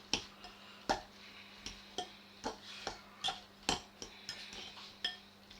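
Potatoes are tossed with olive oil in a dish, with a series of sharp, quiet clinks and taps of a utensil against the dish at an uneven rhythm, close and alone.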